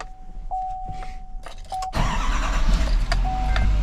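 A 2020 Chevy Silverado 6500 snow plow truck cranks with a few clicks and a tone, then its engine catches and settles into a steady, loud idle close by.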